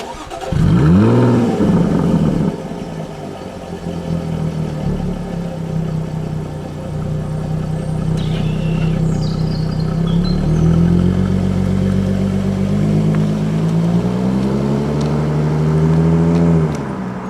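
A Jaguar F-Type engine starts and revs, then settles into a steady drone as the car pulls away and drives on, close and loud throughout.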